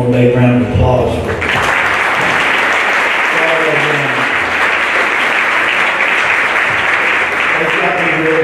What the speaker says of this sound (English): Give all in one more big round of applause.